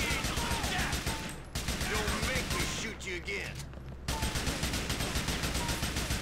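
Gunshots from the GTA Lost and Damned video game ring out as loud, dense rapid fire, broken by a short lull and mixed with engine and crash noises.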